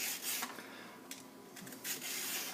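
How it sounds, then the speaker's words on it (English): Fresh ginger root being peeled with a handheld peeler gives repeated dry rasping scrapes in short strokes, fairly quiet and close, with no talking. "I'm going to peel it mostly first."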